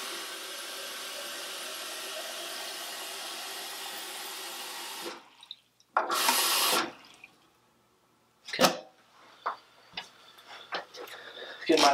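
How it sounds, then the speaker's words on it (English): Tap water runs steadily for about five seconds while 800 ml is measured for a Unicolor C-41 developer mix, then stops, followed by a short burst of flowing water and a few clatters and handling noises. "right now I'll be doing the developer first, so 800 milliliters."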